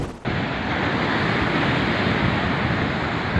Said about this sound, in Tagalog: nawasak ng malakas na alon ng bahagi ng seawall